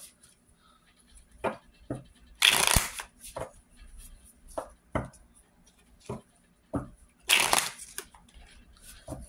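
Tarot cards being shuffled by hand, a run of crisp riffling bursts and softer slides and taps at an uneven pace, close and fairly quiet with no talking.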